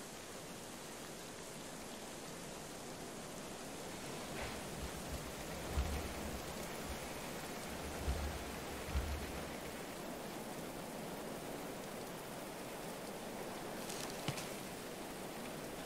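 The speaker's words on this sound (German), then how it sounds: "Es regnet." Rain falls in the medieval colony-building game Going Medieval, a soft, steady, even hiss of downpour that fills the whole stretch, faint in level, with a few dull low thuds rising briefly underneath partway through.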